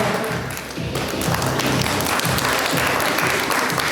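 Audience applause for teams at a charity quiz game, a steady dense clapping that swells after a brief dip and carries on under faint speech.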